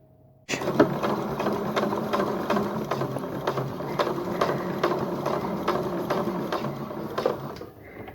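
A sewing machine stitches fabric in a fast, steady mechanical rhythm of clicking needle strokes, starting abruptly after a short silence and running close and clear for several seconds before slowing, with no talking.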